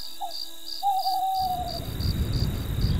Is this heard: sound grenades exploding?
no